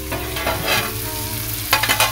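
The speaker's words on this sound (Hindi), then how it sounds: "मूंगफली को थोड़ा सा फ्राई करेंगे, आलू को भी थोड़ा सा फ्राई करेंगे" Peanuts and potatoes fry in a pan with a steady, close hiss, and a few quick stirring scrapes come near the end.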